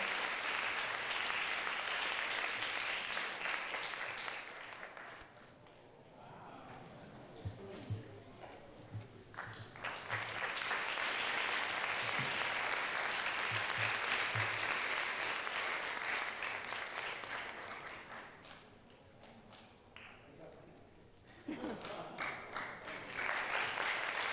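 Sustained applause from a seated audience thanking the speaker and moderator at the close of a university salon talk, a dense steady patter that dips briefly midway and then resumes, with some voices mixed in.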